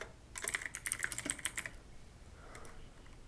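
A quick burst of key presses rattles on a computer keyboard, then a short pause and a few more soft taps, close and clear with no talking.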